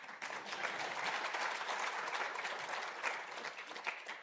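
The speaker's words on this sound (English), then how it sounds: "The clapping is where the fun begins." Audience applause at an evening event on emerging markets, a dense, steady wash of many hands clapping throughout, fairly loud and continuous with no voices over it.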